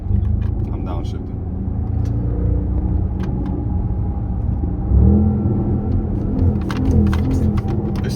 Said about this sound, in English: I'm downshifting.